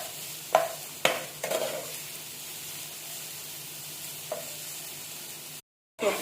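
Chicken and vegetables stir-fry in a hot pan for hakka noodles, with a continuous sizzle broken by several sharp scraping stirs in the first half, a brief dropout, then sizzling resumes.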